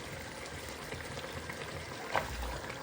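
Sliced onion strips hit meat simmering in a pot for a red bean and meat stew, giving a steady close sizzle and bubbling with a brief clatter near the end.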